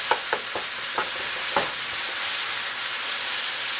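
Ground beef browning in a pan, a steady loud sizzle with several sharp scraping knocks early on as a utensil cuts and breaks up the meat, close by with no talking.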